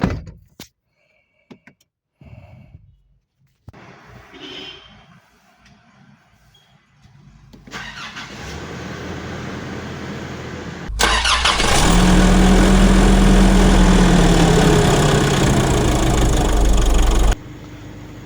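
A 2024 Nissan Terra has a door shut and some handling clicks, then the engine cranks and catches, settling into a steady, loud idle that runs for several seconds before cutting off.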